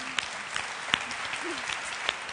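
A studio audience at the Italian television show Se Stasera sono qui claps in steady, continuous applause, moderately loud and slightly distant, with a few sharper individual claps standing out.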